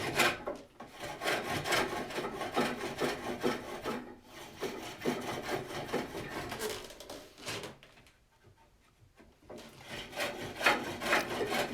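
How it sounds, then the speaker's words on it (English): A spring pole lathe turns the inside of a wooden bowl, giving rhythmic rasping cuts in bursts with brief pauses as the tool scrapes the wood, close and fairly loud, with no talk. "And I'll do one more finished pass on the inside of the bowl."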